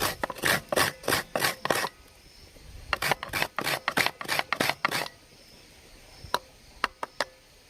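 Rhythmic hand grating, bursts of rapid scraping strokes in quick runs with brief pauses between, close by, ending in a few sharp isolated scrapes.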